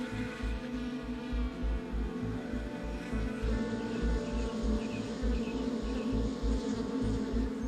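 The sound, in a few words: worker bees buzzing near their hive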